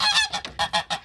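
Geese honking on a farm, a run of five or six loud, nasal calls in quick succession, close to the microphone with no talk.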